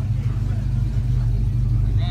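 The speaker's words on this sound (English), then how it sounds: "Here comes that beautiful 72" A 1972 Chevrolet C10 truck rolls by at a car show, its low engine rumble steady and fairly close throughout, with crowd chatter and voices mixed over it.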